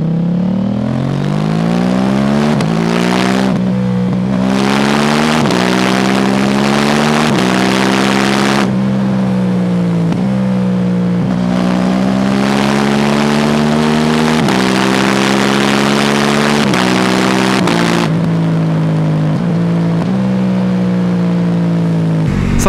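KTM 790 Duke motorcycle ridden at speed, its engine a loud, close, steady drone with repeated rising revs and gear shifts, then dropping pitch as it slows under braking.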